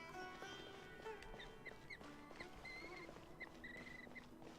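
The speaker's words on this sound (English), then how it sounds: "the cute little bird noises" Small birds chirping in Genshin Impact, a scatter of short high tweets and whistles repeating irregularly over a soft ambient game background, faint and alone with no talk.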